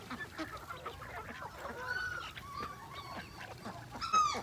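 A flock of ducks eats scattered grain in a farmyard, giving overlapping honking, quacking calls that rise and fall continuously at moderate distance, with a louder burst of calls near the end.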